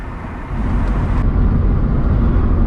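A car cruising along a freeway on a road trip toward Port Macquarie, producing a steady low road and engine rumble that swells slightly after the first half second and stays constant.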